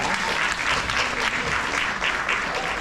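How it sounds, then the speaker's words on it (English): An audience applauds dancers at a dance ballet performance at a cultural center festival in Houston, with dense, steady clapping filling the hall throughout. "Please give a round of applause to them."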